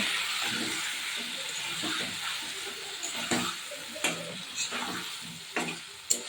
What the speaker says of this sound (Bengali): মশলাটা খুন্তি দিয়ে ভালো করে নেড়ে মিশিয়ে নিতে হবে।